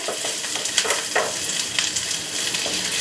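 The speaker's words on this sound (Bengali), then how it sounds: "পেঁয়াজটা বেশ লাল মতো করে ভাজা হয়ে গেছে।" Onions that have turned reddish-brown sizzle steadily in a pan for palak paneer, a dense crackling hiss with brief stirring scrapes, close and moderately loud with no talk.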